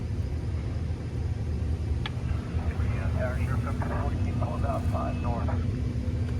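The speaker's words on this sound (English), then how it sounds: "Open it really slowly and you'll hear the gas go through the line" A steady rushing hiss of gas flowing through a line after a valve lever is opened slowly during a start-up procedure, heard as a continuous broadband roar with a low hum underneath and a faint voice in the middle.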